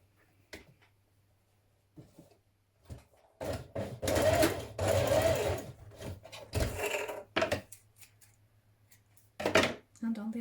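A sewing machine bastes across the pleats of a vest in bursts of rapid mechanical stitching, several runs of a few seconds each separated by pauses and a steady low motor hum, with close handling clicks between.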